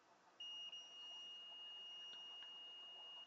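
Steady high continuity beep from a multimeter probing a via on a PlayStation 4 SAA-001 power supply board, a single sustained tone held for about three seconds, close and clear with faint clicks.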